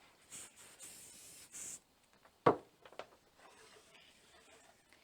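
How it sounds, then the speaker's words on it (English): Several short hissing bursts of aerosol spray near the start, followed by a sharp knock and light handling sounds. "now let's hit it with some Pro Spray"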